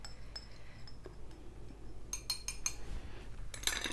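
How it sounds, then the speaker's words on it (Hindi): A metal spoon clinks and scrapes against a bowl while stirring a liquid milk dessert mixture, with sporadic light taps and a brighter cluster of clinks near the end, fairly quiet in the room. "अब साथ साथ चम्मच चलाऊँगी"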